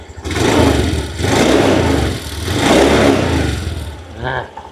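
A 2022 Honda Scoopy i motorcycle with stock engine and exhaust revs up close by in three or four strong throttle bursts that rise and fall, then a short final blip before it settles back.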